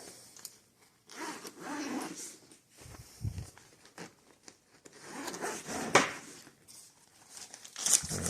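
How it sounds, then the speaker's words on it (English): Zippers on the carrying case of a 4 CFM vacuum pump are drawn open in several rasping pulls of varying length, close and fairly quiet, with crinkling packaging mixed in. "This one's got zippers on it."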